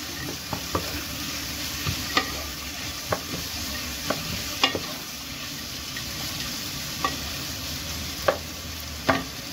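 Onions browning in a hot pan for chicken biryani, a steady close sizzle and fry with periodic scraping stirs of a utensil against the pan every second or so, no voices.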